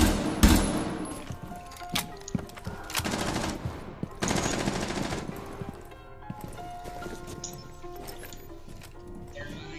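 Gunfire in the tactical shooter Rainbow Six Siege, a sharp opening burst followed by scattered shots and rattling bursts of varying distance over game ambience.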